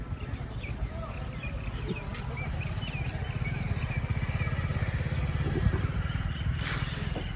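Motorcycle engine running steadily at close range, a low rumbling drone that grows slightly louder, with light outdoor background noise.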